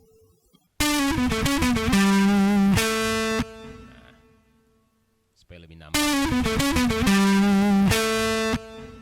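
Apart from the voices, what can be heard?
distortion effect applied to audio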